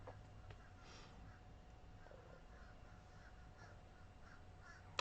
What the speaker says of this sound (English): a gathering, a murder of crows across the street